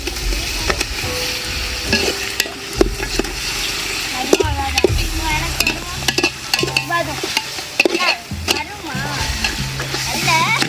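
Raw chicken pieces tipped into a pot of frying masala for chicken biryani and stirred, giving a steady sizzle with repeated scraping and clattering stirs close by, loud and continuous throughout.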